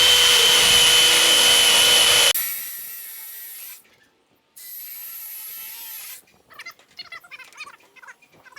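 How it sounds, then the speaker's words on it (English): A power drill bores through metal canopy roof sheets, loud and whining, then stops and starts again in bursts with a short pause between them, followed by quieter clatter and handling noise. "So you want to keep that hole as straight as possible as you drill"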